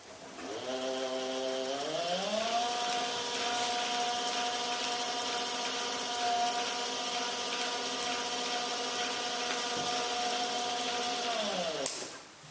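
A homemade steampunk-style pillar tool spins up after switch-on into a steady, even motor whine that holds for several seconds before winding down with a click.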